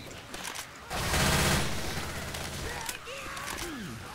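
Rapid gunfire while shooting zombies in Left 4 Dead 2, a dense loud burst of shots lasting a couple of seconds over game noise, followed by quieter action sounds and a brief voice.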